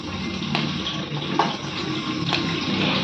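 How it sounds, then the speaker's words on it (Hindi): Running water splashing steadily over fresh mushrooms as they are rinsed in a kitchen sink, a continuous close hiss with a few brief louder splashes and clatters. "अब इनको बहुत अच्छे से वॉश करके हम इनको कर लेंगे बॉईल।"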